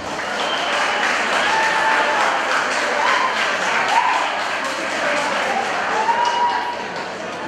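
Audience at a school event applauding, a dense, sustained round of clapping from a crowd indoors, steady throughout with faint voices mixed in.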